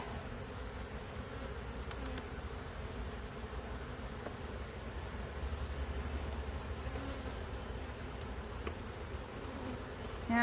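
Honey bees buzzing around an opened hive during a brood frame inspection, a dense continuous drone with occasional closer individual bees passing, steady and moderately quiet.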